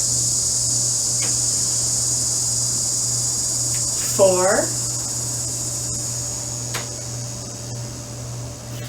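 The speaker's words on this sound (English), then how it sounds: "Can you hear the cicadas at my house?" Cicadas chirping outside a house form a steady high insect drone with a constant low hum beneath, while a short clear sound rises midway and a voice counts briefly.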